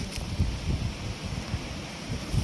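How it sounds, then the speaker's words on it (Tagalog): Strong, cold wind rustles tree leaves in a continuous soft rush, with gusty low buffeting against the microphone in irregular pulses and no talk. "Nag tumutunog yung mga dahon."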